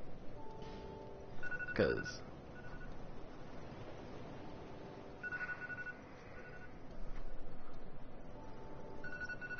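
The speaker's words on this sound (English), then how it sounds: "that was my phone going off" A mobile phone goes off during Dark Souls 2: Scholar of the First Sin play, giving a few faint tonal ring bursts low in the mix under game ambience, with a brief spoken word.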